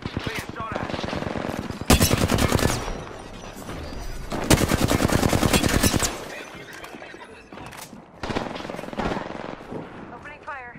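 Rapid automatic gunfire rattles in loud repeated bursts during a Rampart match in Apex Legends, with game voice lines and a player talking between the volleys.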